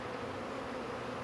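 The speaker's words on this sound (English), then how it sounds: "And a cluster of bees flying around." Honey bees swarm around a newly hived package colony, a continuous, dense buzzing drone that holds steady and fairly loud throughout.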